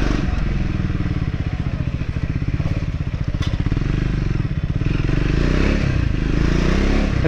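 A Triumph Scrambler 400X motorcycle rides slowly through a narrow lane, its engine a steady, close, pulsing thrum with faint scraping and clatter over rough ground.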